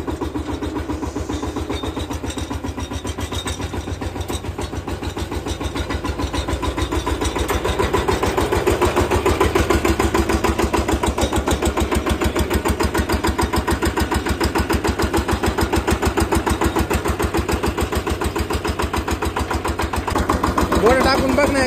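A VST tractor engine runs close by in a steady chugging rhythm that rises slightly in intensity partway through, loud and continuous for the whole stretch.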